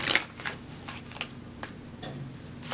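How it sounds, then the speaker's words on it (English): A deck of tarot cards is shuffled by hand, a brisk riffle at the start followed by a run of soft, rhythmic flicks and slides of the cards, close and clear with no talking. "One more shuffle, Tehuti."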